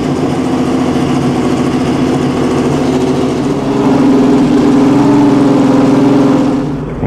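An Alfa Romeo flat-12 racing engine at the historic Monaco Grand Prix runs close by with a loud, steady throbbing idle that swells to a richer, higher drone partway through, no voices heard.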